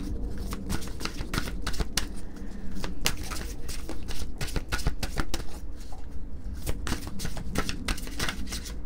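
Oracle cards for a twin flame reading are shuffled close up, giving a steady riffling and flapping patter with dense, rapid clicks throughout and no talk.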